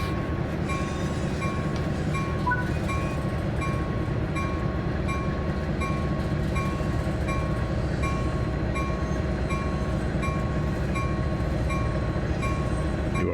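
A locomotive rolls along the Peninsula Corridor near Santa Clara in a railway simulator game, heading to a failed train with an overheated generator. A steady, loud mechanical rumble runs throughout, with faint tonal whines above it.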